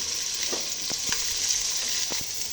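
Capsicum and spring onion greens frying in a pan for fried rice, a steady close sizzle with a few soft stirring knocks and scrapes against the pan, no voices.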